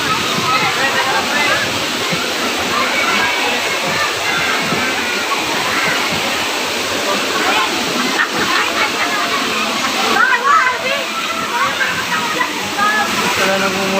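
Cold water pours steadily at a crowded bathing spot, making a loud, continuous rushing roar with occasional splashes, while people's voices are faintly heard under it.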